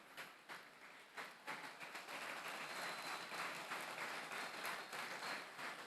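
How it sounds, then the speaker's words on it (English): An audience at an esports grand final for the Mobile Legends: Bang Bang (MLBB) game claps for the athletes, with scattered claps building into dense, sustained applause heard from a distance. "So we're giving clap to all our athletes, their dedications, their performance."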